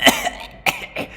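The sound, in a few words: wheezing cough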